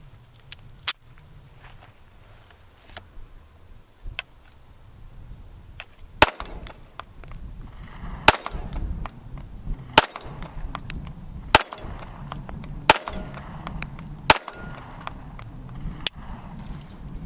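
A Ruger LCP II pistol fires a string of sharp, loud, isolated shots at irregular intervals, sparse at first and then more frequent, with ringing clangs and handling noises between them outdoors.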